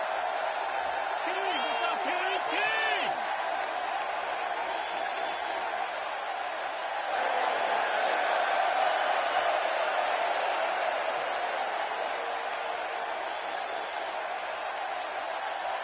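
A capacity arena crowd in a PS4 wrestling video game keeps up a steady roar and murmur throughout, with someone commentator talking over it.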